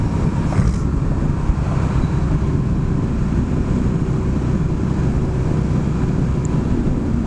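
A motorcycle with a new exhaust cruises at about 51 mph on a hot day, its steady low engine drone half buried under loud, constant wind buffeting.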